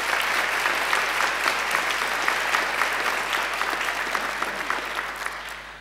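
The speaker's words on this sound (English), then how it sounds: "I think he deserves another great round of applause." Full, sustained audience applause at a university graduation ceremony, a broad, dense wash of many people clapping in a large hall, steady and strong before easing slightly at the end.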